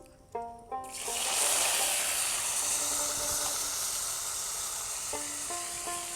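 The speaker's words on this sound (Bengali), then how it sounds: "মাছ ভাজা তেলে এবারে কেটে রাখা আলুগুলো দিয়ে দিচ্ছি" Cut potatoes drop into hot oil left from frying fish and set off a sudden loud burst of sizzling that holds as a strong, hissing fry, with background music in between.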